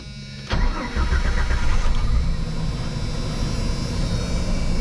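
A 1995 Jeep Cherokee XJ, an engine with a stumble and a miss, cranks and fires up half a second in, then settles into a steady, close idle with no one speaking.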